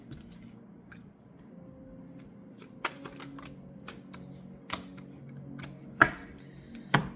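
Tarot cards are shuffled and drawn in a quiet room, soft scattered snaps and flicks with a few sharper card slaps near the end over a faint low background hum.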